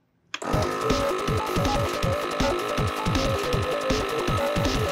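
A vacuum sealer starts abruptly after a brief silence and runs with a loud, steady motor hum and a rapid rhythmic pulsing throb as it pulls the air from a bag.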